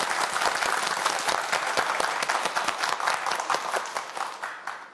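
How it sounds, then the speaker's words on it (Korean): An audience on a Korean TV science quiz show bursts into applause, dense steady clapping from a crowd that gradually thins and fades toward the end. "자, 여러분 박수 한번 보내주세요"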